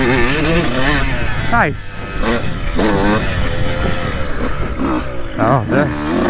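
A 2002 CR125 two-stroke motorcycle revs up in rising, buzzing sweeps, drops off briefly as it brakes, then climbs again, loud and close, with a short spoken word mixed in.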